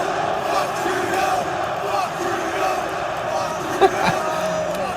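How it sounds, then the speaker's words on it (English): A large crowd at a UFC event chants and roars together in a dense, sustained wash of voices, steady and reverberant throughout with one brief sharp knock. "at the most recent UFC event, F Trudeau chant broke out amongst the crowd"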